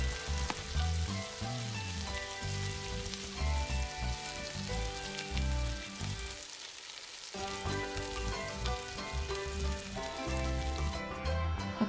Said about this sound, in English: add in the chopped woody mushrooms and continue to stir for about 1 to 2 more minutes until it is cooked